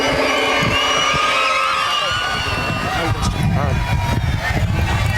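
A crowd at an Arumugam Group of Institutions event cheers, whoops and shouts as a singer is about to come on stage, a steady loud roar of voices with children's shouts running throughout.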